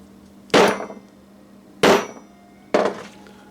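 Three loud, sharp metallic strikes of a hammer on an old piece of rail used as an anvil, evenly spaced about a second apart and ringing briefly after each blow, with no talk.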